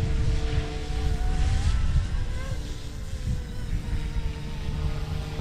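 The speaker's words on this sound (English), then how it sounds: "Had this helicopter for a couple years now." Flywing 200 RC helicopter flying outdoors in wind, a continuous buzzing motor whine with shifting pitch over rumbling wind noise on the microphone.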